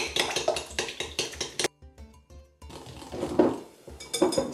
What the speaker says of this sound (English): And you mix everything very well.